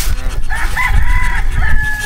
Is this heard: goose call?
yes